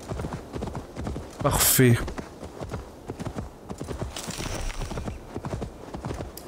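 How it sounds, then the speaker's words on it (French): Horse hooves clip-clopping in Assassin's Creed Valhalla, played on PS5, a steady rhythmic gait with a brief whinny, heard under someone talking. "On va essayer de monter au mieux avec le cheval."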